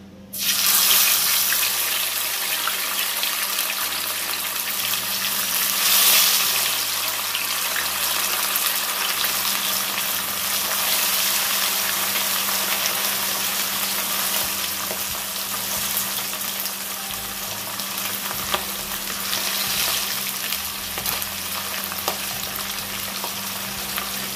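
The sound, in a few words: fish frying in blazing hot canola oil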